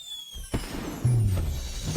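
Fireworks go off at a distance, heard as a muffled thump followed by low rumbling crackle and a further burst, with no talking.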